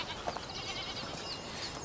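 Goats in a high mountain pasture bleat faintly in the distance, with a few brief calls over a soft, steady background and no talk.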